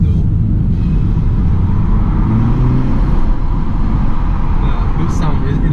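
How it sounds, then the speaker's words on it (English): Inside a 2019 BMW 330i M Sport G20 on the move, a low engine hum blends with heavy road rumble, steady and fairly loud throughout, with a faint pitch rise midway. "Even the sound of the engine, I'm not sure if it's augmented though."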